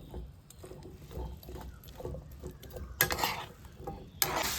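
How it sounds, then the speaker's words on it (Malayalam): Prawn and bilimbi pickle stirred and sizzling in a pan, with faint frying crackle and soft, irregular scrapes of a spoon against the pan, a couple of sharper clinks near the end. "ഇനി ഇതെല്ലാം കൂടെ നമുക്കൊന്ന് ഇളക്കി യോജിപ്പിച്ച് ചേർക്കാം."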